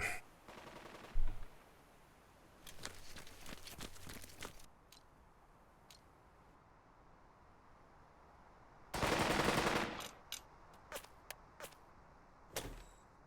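Machine gun fire in the WW2 video game Burden of Command, with short rattling bursts early on, then a loud sustained volley, followed by scattered single sharp shots against quiet ambience.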